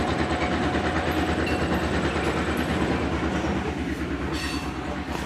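A CP rail car rolls steadily along the track during yard work with a continuous rumble and rhythmic clickety-clack, loud and close throughout.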